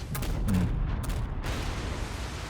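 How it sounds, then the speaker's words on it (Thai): Island blowing up during the ending of Resident Evil 4 Remake: a sustained, loud, rumbling explosion with deep low-end roar and crackling debris bursts throughout, heard alone without talk. "เกาะระเบิด"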